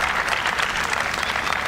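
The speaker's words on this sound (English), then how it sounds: "You can hear the crowd roar" Tennis crowd at the Mumbai Open WTA 125 women's event roaring and applauding after a point, a dense, steady wash of clapping and cheering filling the whole stretch without pause.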